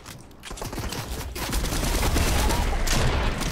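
Rapid bursts of gunfire in the battle royale video game Fortnite, a loud, close, continuous rattle of shots that grows heavier and denser over a few seconds.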